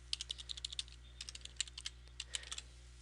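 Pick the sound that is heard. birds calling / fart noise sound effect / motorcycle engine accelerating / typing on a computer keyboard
typing on a computer keyboard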